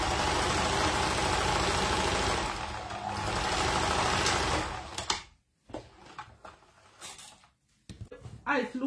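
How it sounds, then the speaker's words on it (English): A sewing machine stitches fabric for a danshiki bubu garment, giving a loud, steady mechanical whir for about five seconds. It then stops, leaving quieter handling noises and brief talk. "We are sewing it together"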